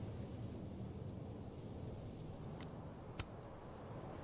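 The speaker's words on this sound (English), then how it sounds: "Wait, there's a storm!" Thunderstorm in the video game Life is Strange: Double Exposure, a steady wash of rain-like rumble throughout with two sharp crackling thunder strikes late on, the second louder, no talk.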